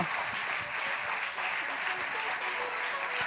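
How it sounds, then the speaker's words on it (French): Audience applause at a French road-safety innovation award ceremony, a steady dense wash of clapping from a crowd that keeps an even level throughout, heard from some distance in a hall. "on vous applaudit encore bien fort"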